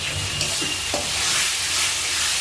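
A spoon scrapes and stirs a chicken curry mixture in a hot pan, with a steady sizzle and frying hiss throughout and a few soft knocks, close and alone with no talk.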